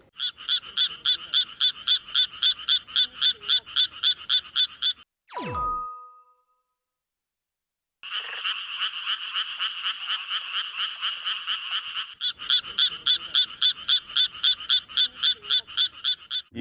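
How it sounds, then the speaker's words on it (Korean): A Suwon tree frog's high, metallic song from a played recording: rapid, evenly pulsed calls in two bursts, broken by a brief falling tone and a short silence, then a dense continuous stretch of calling. "수원 청개구리는 약간 높아요. 주파수가. 그래가지고 금속성 소리가 나요."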